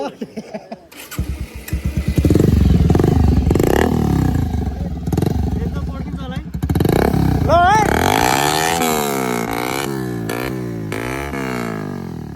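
A motorcycle engine revs and runs loudly up close, its pitch rising and falling with throttle, while someone talks over it.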